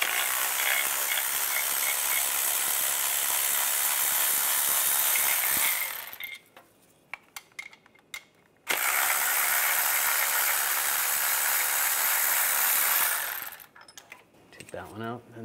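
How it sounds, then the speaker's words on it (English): Ratchet with a 15 mm socket turning bolts out on a 2010-2016 Cadillac SRX during crankshaft position sensor replacement, two long bursts of rapid, close, loud clicking separated by short pauses with light clanks. "And these lower two bolts, take these out, same 15 millimeter socket."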